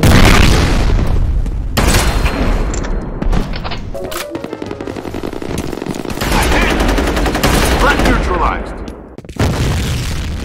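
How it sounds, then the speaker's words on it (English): Loud grenade blast and rapid gunfire in the first-person shooter FEAR during an online match, with heavy booms and bursts of automatic fire filling the clip and a player's voice shouting over the combat. "Grenade out!"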